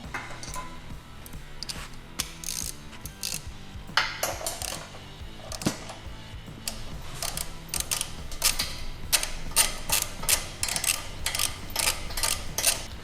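Ratchet clicking while tightening the four mounting bolts of a front winch bumper on a third-generation Toyota Tacoma, with quick repeated metallic ticks in short bursts, moderately quiet, over faint background tone.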